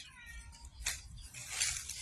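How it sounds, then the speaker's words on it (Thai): A faint cat meows a couple of times, soft and somewhat distant, against quiet background noise. "มีเสียงแมวด้วยเหรอ"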